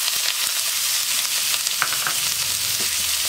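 Onions and green chilies hit hot oil in a pan for a dhaba-style dal fry, giving a loud, continuous crackling sizzle with a few sharper pops and light stirring scrapes.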